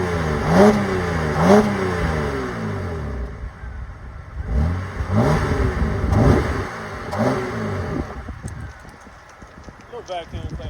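Pontiac G8 with a V6 engine, revved in short bursts: two quick rising rev sweeps, a pause, then more rises and falls, heard close while someone talks over it.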